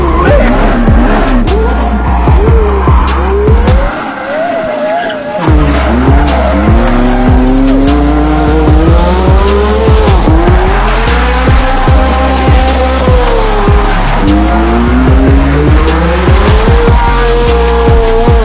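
Historic race cars roar hard on a circuit, engines revving and climbing through gears with sweeping pitch rises, tires squealing and skidding through corners; loud and continuous throughout, with a brief lull near the start before the engines surge back.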